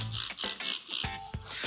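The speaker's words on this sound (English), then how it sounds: "I'm just gonna spray this stuff" A spray bottle of cleaner spritzing onto a vintage cymbal, a series of short hissing bursts in a regular rhythm, close and fairly quiet.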